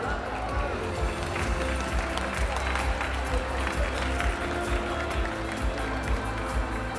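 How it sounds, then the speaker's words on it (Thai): Audience applause fills a room at the SF+ membership card launch event, a dense, continuous patter of clapping at steady volume with crowd noise and some speech underneath. "ขอเสียงปรบมือดังๆด้วยครับ"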